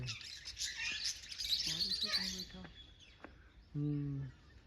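Several parrot-like birds with head crests chirp and tweet in short bright bursts at the Sheesh Mahal in Patiala, with brief squawky calls and faint background murmur.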